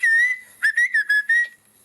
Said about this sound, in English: So they communicate from distances by whistling.